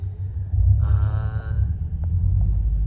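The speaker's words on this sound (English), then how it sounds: "You hear that unequal length header on the BRZ right next to me." A deep, throbbing exhaust rumble from a nearby Subaru BRZ with an unequal length header, low and uneven, holding steady for a few seconds with a brief higher tone in the middle, in the city.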